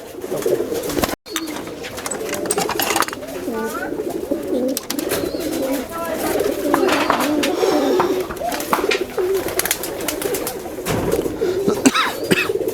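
Domestic pigeons, including Dhaka-bred birds, coo in a farm loft, with repeated low throaty calls overlapping from several birds close by and occasional wing or body rustles.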